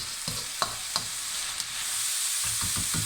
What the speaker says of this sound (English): So I'm going to now mix those up in the oil and the onion juice.